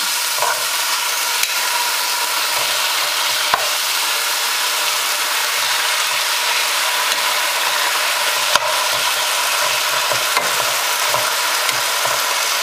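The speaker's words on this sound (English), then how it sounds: "So now that the pan is hot again, after I remove the vegetables, I am just going to add the meat." Beef strips sizzle loudly in a hot pan with a little olive oil, a steady dense crackle with occasional sharper pops, continuous and close throughout, for a beef, broccoli, snow pea and scallion stir fry.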